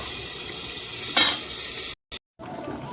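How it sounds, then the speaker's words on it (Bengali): Fenugreek seeds and bay leaf sizzle in hot oil in a pan, a close, steady frying hiss with a brief stirring scrape, broken by two short cuts of silence. "তেল দিয়ে দিয়েছি তেল গরম করে দিয়েছি আর এইটা মেথি দিয়ে দিলাম একটু"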